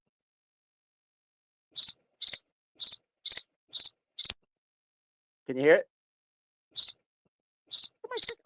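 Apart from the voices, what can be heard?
crickets chirping, played as an example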